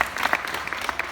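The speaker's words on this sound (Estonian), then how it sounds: "aplaus" Audience applause at a school dance competition as a jury member is introduced: dense, close clapping with sharp individual claps, steady for about a second.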